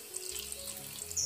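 Boiling water is poured into a larger baking pan to make a bain-marie for quindim, giving a short, steady splashing trickle with a brief hiss, no voices.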